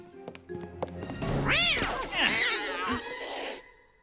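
A cat lets out a long, loud, wavering meow that swells into a drawn-out caterwaul, heard up close indoors with some background noise.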